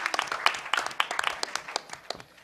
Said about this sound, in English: I think it's a round of applause for everybody standing up out there.